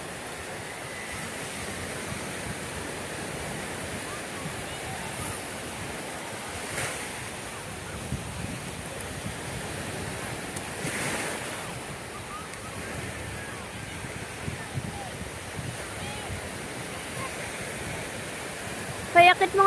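Steady sea surf washes continuously along an open shore, a broad wind-blown rush with gentle swells rising and falling throughout, moderately loud and close, no voices over it.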